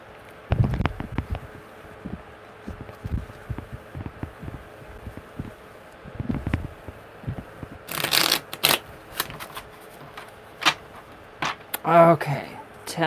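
Tarot cards are shuffled up close in repeated bursts of riffling and tapping, with a denser flurry of shuffling toward the end.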